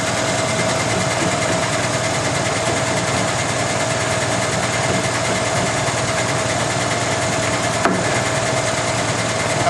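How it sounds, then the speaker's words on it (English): The vacuum on a GEM GSBM20 manual lens edger drones steadily and loudly with an even, unbroken motor hum, no voices over it. "I'm going to turn on my vacuum"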